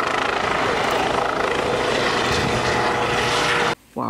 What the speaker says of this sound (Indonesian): dan juga ada helikopter polisi.